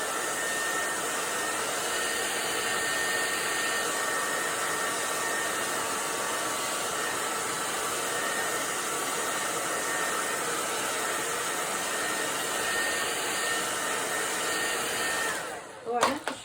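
A hair dryer blows steadily on a watercolor painting for a long stretch, a loud, even whoosh close by that cuts off abruptly near the end, followed by a brief clatter.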